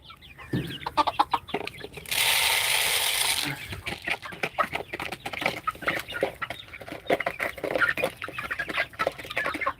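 Chickens cluck and call on a farm during feeding, a busy mix of short repeated clucks near and far, with a brief burst of rustling or pouring feed in the middle.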